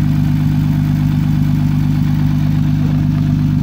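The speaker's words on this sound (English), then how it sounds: "Got the motor running in here." Honda Odyssey engine idling with the engine cover raised, a steady, loud low hum with constant harmonics and no variation in rhythm, no voices over it.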